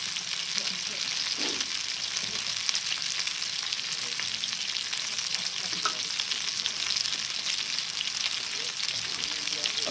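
Barbecue ribs sizzle and fry steadily inside a cave, a constant close hiss of meat cooking in fat, with a few faint stirring knocks underneath and no talk.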